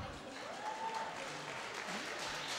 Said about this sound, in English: So let's have a round of applause for Amy Marin.